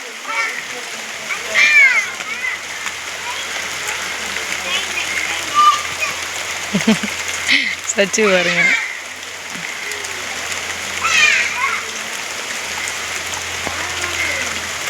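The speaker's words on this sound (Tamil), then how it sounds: "மழை பெஞ்சிக்கிட்டே தான் இருக்குதுன்னு நிற்கலை" Moderate rain falling in Tirunelveli and Thoothukudi, with water splashing as children play, a steady patter and intermittent splashes running underneath frequent talk and laughter.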